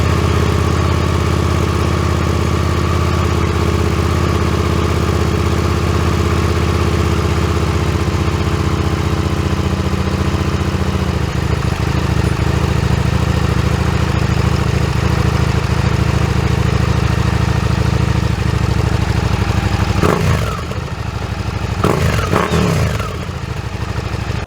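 A Suzuki SV650X engine runs with an SC-Project exhaust and the DB killer fitted, idling loud and close as a steady deep throb, with a few sharp revs near the end.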